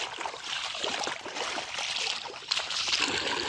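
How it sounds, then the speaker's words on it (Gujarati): Water gushes out of the pipe from a running well pump on a farm, a steady hissing, splashing flow heard close and fairly even throughout. "કૂવાની મોટર ચાલુ થઈ ગઈ છે"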